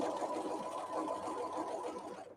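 A home sewing machine stitches fabric in one steady run, a dense, fast mechanical whir heard close and alone, stopping abruptly at the end.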